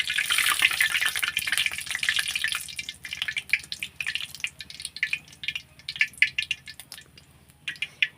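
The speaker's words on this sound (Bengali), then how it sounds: "এভাবে আমি সবগুলোই ভেজে নেব" Jackfruit fritters (kathal bora) frying in oil, a loud sizzle at first that breaks into crackling, spattering pops and bubbling as the frying goes on, with no talk.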